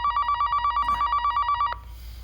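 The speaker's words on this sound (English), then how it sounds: "We got a phone call." A telephone rings at a radio call-in show: a loud, rapid trilling ring holds steady for about a second and a half, then cuts off abruptly, leaving a quiet room hum.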